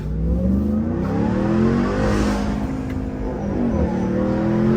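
A Ram TRX pickup, a supercharged Hellcat-engined truck, roars hard under acceleration from inside the cab, engine pitch climbing and dropping through successive gear shifts, loud and steady throughout.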